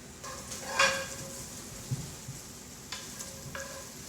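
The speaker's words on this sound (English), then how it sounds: "Just crisping up the ham a little bit." Ham crisping in a pan gives a low, steady sizzle, punctuated by a few metallic scrapes and clinks of a utensil stirring against the pan, close and fairly quiet.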